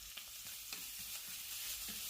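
Chopped ginger and green chilies sizzle in hot oil tempered with white and black cumin in a kadai, a bright continuous hiss with faint stirring scrapes, close and alone.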